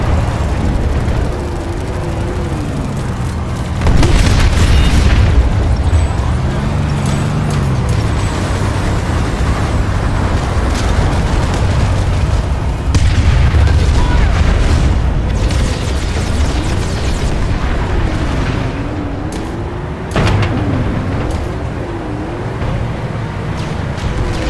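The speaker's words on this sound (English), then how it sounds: "Generator destroyed." Generator exploding in the online shooter PlanetSide 2, heard as loud booming blasts over a dense rumbling battle din, with sharp bursts near the start, middle and end.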